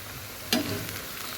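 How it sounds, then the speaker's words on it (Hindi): Potato fries sizzle in well-heated oil with a steady, hissing crackle and a sharp clatter partway through, with no voices. "तो ऑयल मैंने अच्छे से गर्म किया पहले, उसके बाद फिर मैंने फ्राइज़ डाले हैं।"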